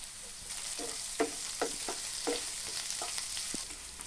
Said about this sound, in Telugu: ఆనియన్స్ కొంచెం వేగినాయి